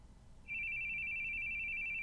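A steady high-pitched electronic tone sounds in the video game The Boogie Man, starting abruptly after a quiet half second and holding unbroken and loud to the end, like a phone ringing over low background rumble.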